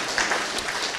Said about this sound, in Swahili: Twambe tuhurire gavana makofi.